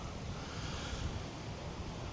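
Ocean waves wash at the Atlantic City inlet where the bay meets the Atlantic, a broad, steady roar of surf mixed with wind buffeting the microphone, constant and fairly loud, with no voices.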